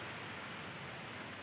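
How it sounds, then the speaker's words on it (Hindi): Heavy rain pours down near an outdoor swimming pool, a dense steady hiss with no break and no voices. "बारिश हो रहा है एकदम दबा के"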